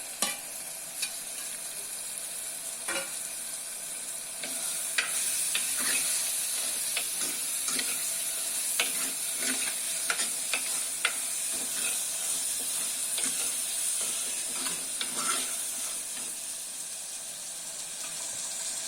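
Drumstick pieces sizzle and hiss steadily in a hot pan of oil for mochai kulambu, with repeated scraping taps of a spoon stirring them throughout.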